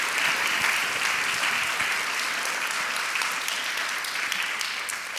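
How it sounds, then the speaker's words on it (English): Audience applause for the speakers at a university diversity festival talk, a full, steady wash of many hands clapping that holds loud for about five seconds and eases slightly near the end. "Please give a round of applause to our speakers."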